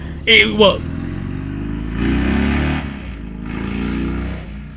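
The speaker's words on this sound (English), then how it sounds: "I got off track by that motorized vehicle sound" A car engine revs outside at a distance, rising in two long, steady swells, with a brief sharp burst of noise near the start.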